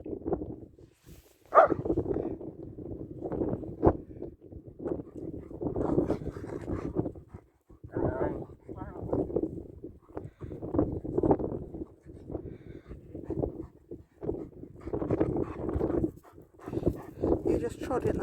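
Two dogs, Kane and Brea, panting and scuffling in play out on an open moor, with bursts of breathing and movement close by, wind buffeting the microphone, and a person talking over them throughout.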